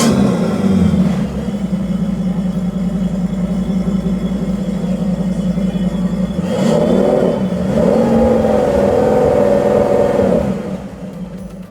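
A Mercury V10 400-horsepower outboard boat engine drones loudly at a steady idle, then revs up into a higher throaty roar before easing back down near the end.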